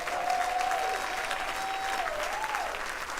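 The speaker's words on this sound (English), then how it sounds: "give yourselves a round of applause" A crowd of over 260 people applauding inside a church at a town hall, sustained and even clapping filling the room, with a faint tonal voice briefly audible over it.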